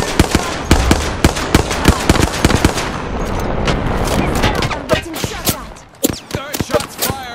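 Gunfire in the video game Apex Legends: loud, close bursts of rapid automatic shots and sharp single cracks, sometimes clustered tightly and sometimes spaced out, over a steady background din.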